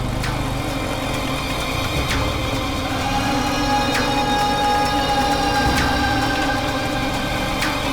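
A car engine idles steadily at close range, a continuous low hum with faint tonal whine and a few brief clicks, with no talk over it.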